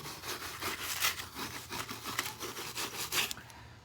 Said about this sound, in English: I'm going to take my little scrubber and come through here.